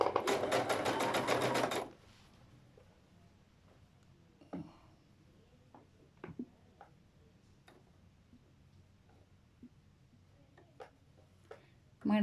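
A sewing machine stitches the folded hem of a petticoat in a short, loud rapid run lasting about two seconds. Scattered light clicks and fabric handling follow, with a voice in the background.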